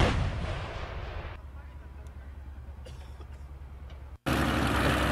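Russian 2S7 Pion and 2S5 Giatsint self-propelled artillery guns firing during a heavy live-fire exercise: a loud opening blast fades into a long rolling rumble, then a second sharp, powerful report bursts in near the end.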